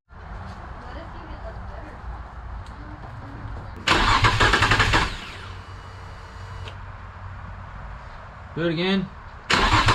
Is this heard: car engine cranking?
yes